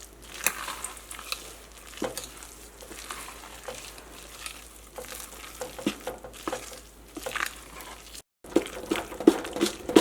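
A spoon works through thick green gram batter in a bowl, giving close, irregular squelching and scraping strokes with brief pauses.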